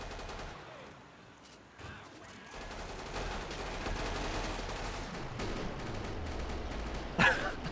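Gunfire in the video game Killing Floor, a run of shots from a player fighting clots or stalkers, crackling steadily at moderate level with a louder burst near the end.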